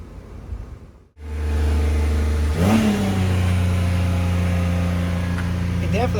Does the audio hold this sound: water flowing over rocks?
no